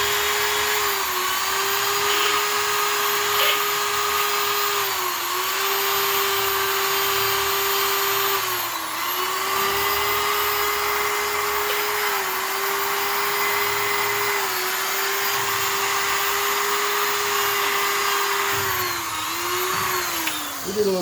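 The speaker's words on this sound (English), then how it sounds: "We did a little bit of hand blending." A high-pitched grinder whines steadily while hand-blending the ports of small-block Chevrolet Edelbrock cylinder heads, its pitch dipping slightly each time the tool loads against the metal, continuous and close with no talk.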